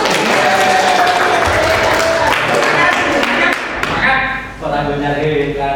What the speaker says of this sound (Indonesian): Beri tepuk tangan untuk Kak Riri